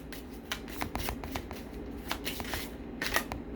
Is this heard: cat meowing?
no